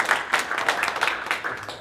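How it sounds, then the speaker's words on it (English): An audience at a menorah lighting at Staten Island's Borough Hall applauds in a short burst of many hands clapping, close and lively. "These guys are applauding"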